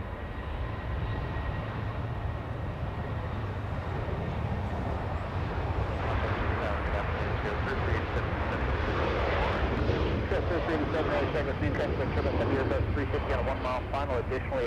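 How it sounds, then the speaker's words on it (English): A Boeing 737 airliner takes off at Los Angeles International Airport, a loud continuous jet engine roar that swells and grows rougher, with a voice talking over it. "we're staying with the orange plane, a 737, getting a move on, already clear for takeoff"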